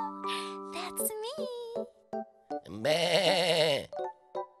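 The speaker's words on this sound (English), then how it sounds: "That sound is definitely a sheep." A single long, wavering sheep bleat rises loud and near in a cartoon children's story, with short tonal chimes and brief sounds before and after it.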